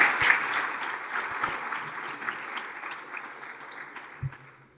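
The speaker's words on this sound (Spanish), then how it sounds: "recibamos con un fuerte aplauso a Carlos Quintans" An audience at a school lecture applauds to welcome the speaker, dense clapping that starts strong and gradually fades over a few seconds.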